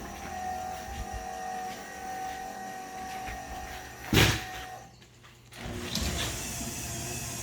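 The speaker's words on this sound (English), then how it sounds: "So let's do a cold startup." A RAM 2500 pickup with a Diamond Eye exhaust cold-starts with a sharp crank burst, dips briefly, then settles into a steady, moderately loud idle rumble over a humming background.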